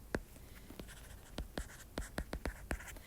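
A pen writing in green on a surface while graphing a sine curve, heard as a series of short scratchy strokes at an uneven pace, close and moderately quiet, with no talk.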